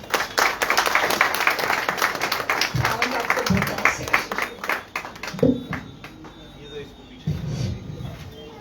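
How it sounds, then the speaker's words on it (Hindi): Loud applause and clapping from a church congregation at a Friday worship service, a dense wash of hands that thins out over the last few seconds, with voices breaking through in short bursts. "परमेश्वर के लिए जोरदार ताली।"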